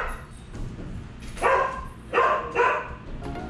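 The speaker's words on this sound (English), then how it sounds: "Yep, those are the dogs in the background." Several dogs bark in the background, giving a few loud clustered barks at mid-distance over a low steady ambient hum, with no talking.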